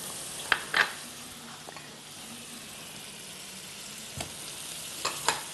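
A spoonful of butter melting in a hot pan gives a soft, steady sizzle under light background hiss, with a few sharp clicks and taps of utensils scattered through.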